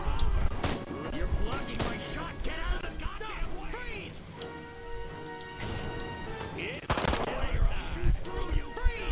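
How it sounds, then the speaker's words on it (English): Tommy gun fire in the video game Destroy All Humans!, loud, crashing bursts mixed with other game noise and voices, and a talking voice running over much of it. "Oh wait, he has a Tommy gun."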